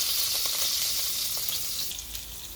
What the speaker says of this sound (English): Okay, now I nicely want to mix them together